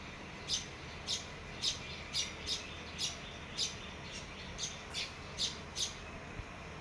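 A bird gives a series of about a dozen sharp, evenly spaced high chirps against quiet background hiss.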